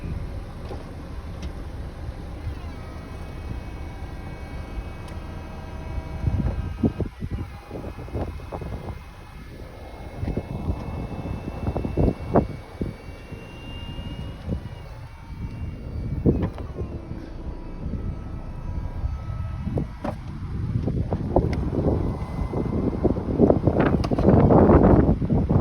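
A 2006 Audi A4 convertible's power top cycles closed, giving a steady mechanical whir with clunks and latching thumps that build near the end, heard close up with some wind noise and no talk.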